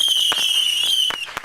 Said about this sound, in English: be mindful of what area you choose to ignite the fireworks